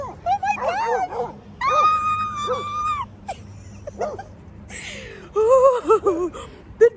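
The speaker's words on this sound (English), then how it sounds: "Oh, the dog." Dog whimpering and yipping in a series of high, wavering cries and short barks, close and fairly loud, mixed with a person's excited voice at times.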